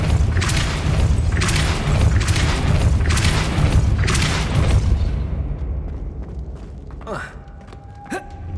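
In the Hogwarts Legacy video game, repeated heavy booming blasts of the Depulso spell pulse in a fast rhythm, then fade into lighter magical whooshes and chimes near the end.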